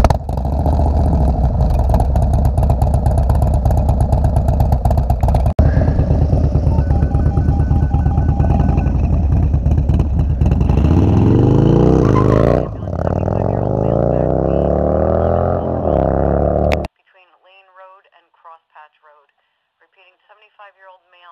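A motorcycle fitted with a Bassani Road Rage 3 exhaust runs on a dyno, its loud, close engine droning steadily and then climbing through the revs before cutting off abruptly. Crackly radio-dispatch talk follows.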